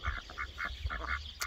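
An emerald duck quacks repeatedly in short, nasal bursts with brief pauses between them, fairly close and clear over a low background rumble.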